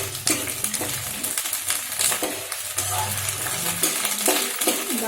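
Whole green chillies sizzle and fry in a pan while a utensil stirs and scrapes them, with clinking metal taps over steady crackling oil.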